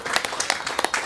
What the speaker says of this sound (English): give a round of applause to my 2 very special guests